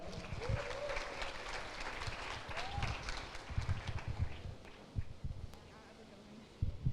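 Church congregation applauding during a worship service, a steady wash of hand clapping from a crowd heard at a moderate distance, with voices and a little talk running through it.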